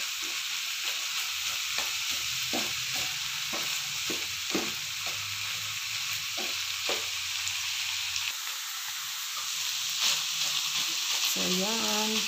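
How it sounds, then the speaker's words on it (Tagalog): Ground beef and pork mixed in a frying pan: a continuous bright sizzle with a rhythmic run of scraping stir strokes, close up, and a short stretch of voice near the end. "Mix lang, mix."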